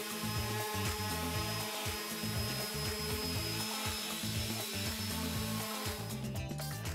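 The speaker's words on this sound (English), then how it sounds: "Let it dry and then give it a good sand." Dried wood filler on a wooden shelf is sanded with a power sander, giving a loud, continuous buzzing whir with a rough, gritty texture that wavers slightly, close by and with no talking.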